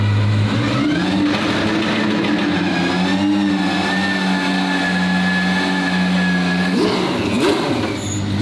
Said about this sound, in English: So I was giving it more and more throttle, but it was holding it there.